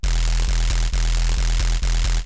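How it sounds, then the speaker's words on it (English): An unfiltered, noisy, distorted, self-modulated sawtooth sub bass synth drones steadily and loudly, with gritty noise across the whole range and a regular pulsing dip about every half second. "Next up, we have the sub bass, which is just a pretty standard sub bass. It's got a bit of noise and grit to it"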